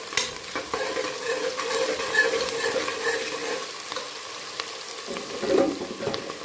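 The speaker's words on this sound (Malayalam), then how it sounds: "ഇനി ഇതൊന്ന് വഴറ്റിയെടുക്കാം. ഈ സമയം ഇതിലേക്ക് കുറച്ച് കറിവേപ്പിലയും കൂടെ ഇട്ട് കൊടുക്കാം." Beef curry being sautéed in a pan with curry leaves, a steady close sizzle and frying hiss with scraping stirs throughout and a louder flare of sizzling near the end, no voices.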